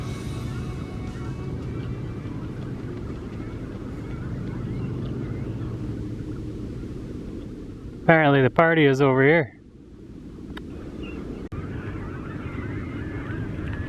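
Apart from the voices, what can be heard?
large flock of birds calling on the Mississippi River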